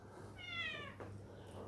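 A cat character meows once in the Looney Tunes World of Mayhem video game, a short, clear, quiet mew followed by faint game ambience.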